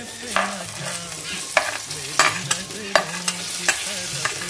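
Potatoes frying in an onion masala for a moringa drumstick curry: steady close sizzling with regular scraping stirs of a spoon around the pan, plus a faint tonal hum in the background.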